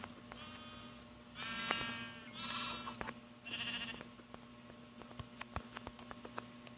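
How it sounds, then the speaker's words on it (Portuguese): Two sheep bleat in short wavering calls, three bursts in quick succession at close range, over a steady background hum with scattered clicks and taps on a farm. "Olha só 2 ovelhas."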